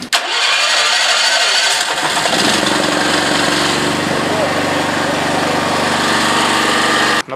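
An engine cranks and catches, then settles into a loud, steady mid-pitched running roar close by until it cuts off abruptly.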